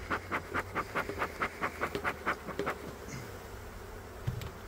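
Honeybees buzz around an open hive at the end of the season, a close, steady drone with a rapid pulsing flutter that fades into a softer hum.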